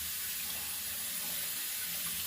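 A warm-water tap runs steadily into a sink, a continuous broadband hiss of flowing water with no pauses, close and fairly quiet.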